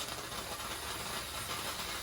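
A US Steam Falcon steamer hose purging water from its line, a loud, steady, broadband hiss of escaping water and steam close by, continuous with no talking.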